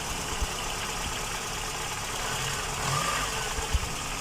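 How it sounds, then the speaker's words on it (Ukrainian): A car engine idles quietly and steadily after a head gasket replacement, a low even hum with a couple of faint soft knocks, recorded close with no talking. "Двигун працює мовчасики."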